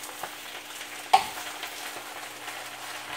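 Kale and spinach sauté in safflower oil as they are stirred, a soft, low sizzle with one sharp utensil knock against the pan near the start.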